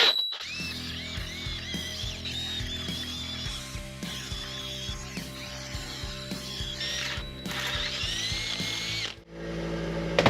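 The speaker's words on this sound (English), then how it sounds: "I'm gonna see if I can drill this out to 1/4" Power drill boring out a hole to 1/4 inch while working on an offroad Jeep XJ, whining steadily with a shrill squeal as the bit bites, stuttering briefly near the end, faint and continuous with no talk.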